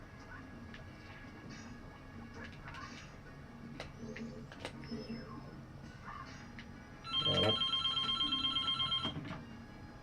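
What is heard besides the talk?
mobile phone ringing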